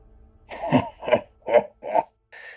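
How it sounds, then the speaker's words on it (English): A voice lets out four rhythmic, booming laugh-like bursts, then a short, muffled cough through a helmet follows, close and slightly hollow. "Kind of does this bellowing laugh, followed by a cough through the helmet."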